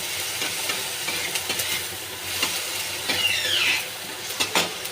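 Tomato frying in a kadai, giving a steady sizzle with hissing steam while a spoon scrapes and stirs in short irregular strokes, close and fairly loud.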